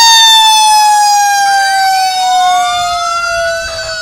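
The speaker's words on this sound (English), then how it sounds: "that's a vehicle from Frewsburg Fire Department, Frewsburg, New York, engine 342" Frewsburg Fire Department engine 342 from Frewsburg, New York, sounding its siren loud and close during a Fourth of July parade, a wailing tone that slowly falls and rises again, with no talking.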